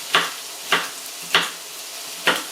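Celery stalks hit a hot pot while making turkey stock, giving four evenly spaced sizzling bursts that flare and fade against a quiet background.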